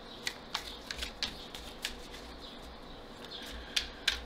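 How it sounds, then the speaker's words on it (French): A tarot deck, the Pictorial Key, being shuffled by hand, giving light, irregular card snaps and soft riffles over a quiet room hiss, with no speech. "le second tirage, ce sera un tirage complémentaire avec le tarot Pictorial Key pour nos amis Verseau"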